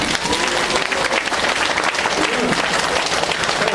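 Dense, steady applause fills a church hall during an all-congregation retreat of Gunsan Sinheung Church, a close, even wash of many hands clapping without pause.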